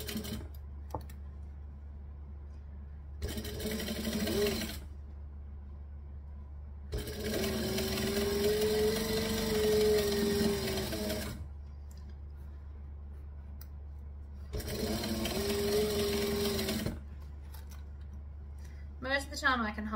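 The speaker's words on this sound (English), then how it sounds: "Right sides together. Stitching around the edge." A sewing machine stitches around the edge of fabric pieces placed right sides together for a Riptide bag, running in three bursts, the longest about four seconds, separated by quiet pauses over a low hum.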